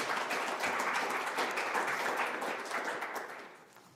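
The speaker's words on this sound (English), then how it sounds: "I ask you to join me in a round of applause for him" An audience at a Veterans Day ceremony applauds, a steady and fairly close wash of many hands that fades toward the end.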